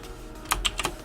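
Several crisp keystrokes on a pricey computer keyboard, four quick taps clustered in the second half after a quiet start, close and fairly soft.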